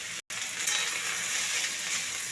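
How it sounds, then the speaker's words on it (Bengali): Okra sizzles steadily as it fries with turmeric in a hot kadai, a close, even crackle with one brief drop to silence near the start. "এখন কড়াইটা গরম হয়ে গেছে, এখন ভেন্ডিটাকে প্রথমে ভাজতে দিয়ে দেবো"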